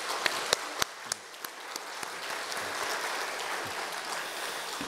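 A church congregation claps in congratulation, a few sharp distinct claps at first blending into a soft, steady patter of applause that fades gently, heard at moderate distance with no talking.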